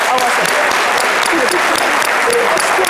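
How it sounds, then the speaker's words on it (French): Dense, steady applause from a sizable crowd fills the space loudly, with a voice faintly audible underneath. "Applaudissez pour elle."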